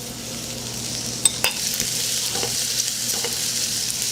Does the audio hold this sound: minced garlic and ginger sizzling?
yes